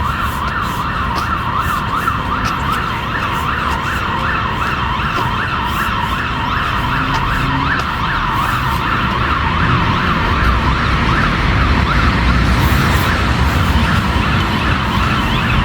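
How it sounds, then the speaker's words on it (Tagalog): A fire truck siren wails loud and close near a highway park walking path, a steady rising-and-falling whoop repeating throughout over traffic rumble, with no talk. "May dumaan na fire truck"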